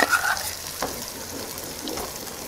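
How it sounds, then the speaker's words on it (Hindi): Thick poppy seed and almond paste for halwa roasting in a pan over very low heat, with a steady soft sizzle and repeated scraping strokes as it is stirred continuously, close up and without talk. "बिल्कुल कम आंच पर आपको लगातार हिलाते चलाते हुए इसे भूनना है"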